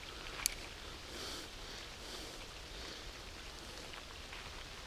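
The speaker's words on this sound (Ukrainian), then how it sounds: "Так, вже дощик затихає і це мені подобається." Soft, steady patter of light rain dying down by a forest river, quiet and even throughout, with no voices.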